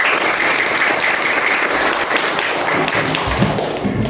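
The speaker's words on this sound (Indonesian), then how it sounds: "Tepuk tangan dulu dong." A crowd applauds loudly and steadily, a dense wash of clapping hands that carries on without pause.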